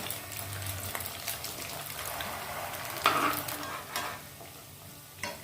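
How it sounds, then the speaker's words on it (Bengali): Food fries in a pan for an eggless egg-style curry and is turned over, giving a steady sizzle with scraping stir noises and a brief louder burst partway through. No one speaks. "দেখো একটা দিক ভালো করে ভাজা হয়ে গেছে, তারপর আমি এটাকে নেড়ে দিচ্ছি।"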